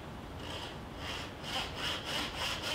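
A hand saw cross-cuts wood held in a bench hook in steady back-and-forth strokes, each rasping pass clear and close, with no voices.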